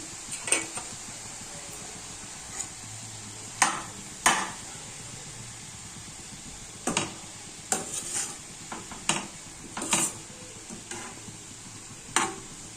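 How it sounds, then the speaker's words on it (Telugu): Tomatoes go into a carrot and capsicum curry cooking in a pan, a low simmering hiss broken by repeated spoon clinks and scrapes against the metal at irregular intervals, close and without talk. "దీనిలో నేను టొమాటోస్ వేసుకుంటున్నాను."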